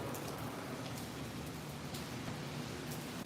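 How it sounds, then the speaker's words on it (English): Steady outdoor rain, a dense even hiss of falling drops with faint scattered patters, continuous and unbroken, with no voices. "It's raining."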